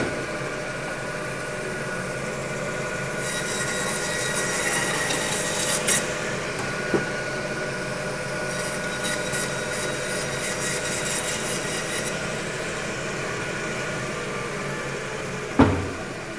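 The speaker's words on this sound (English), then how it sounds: "So I use my bandsaw and I cut through the vertebrae on the back of these" A butcher's bandsaw cuts through the vertebrae of a rack of pork ribs, giving two long stretches of bright, rasping, buzzy cutting over a steady motor hum. A sharp knock comes near the end.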